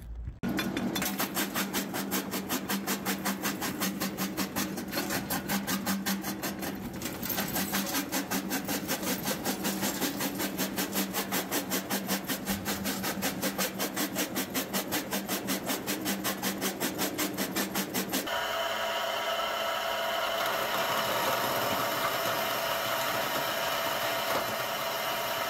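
A gold mine ore sample is crushed for about twenty-five seconds in a steady, rapid, rhythmic grinding clatter. The texture shifts to a smoother rush near the end, and no one talks.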